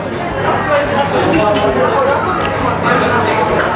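A knife and fork cut an all-beef sausage on a plate at a Turkish restaurant in London, with faint clinks and scrapes half buried under steady restaurant chatter and a nearby voice.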